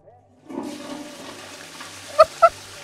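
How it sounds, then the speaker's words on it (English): A toilet in The Artful Escape video game flushes with a rushing swirl of water that fades out, followed by two short, bright chime-like tones. "just flush the toilet"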